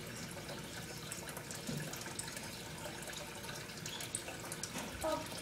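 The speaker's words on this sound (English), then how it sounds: "I'm going to take a shower." Steady broadband water noise from a running home shower, an even rushing hiss with a few faint clinks and knocks near the end, no voices.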